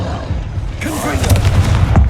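A Confringo spell blast in Hogwarts Legacy: a loud burst of booming, crackling impacts that builds into rapid blasts, with a shouted voice mixed in.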